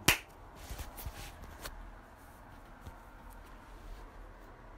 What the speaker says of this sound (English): Last clap, hopefully.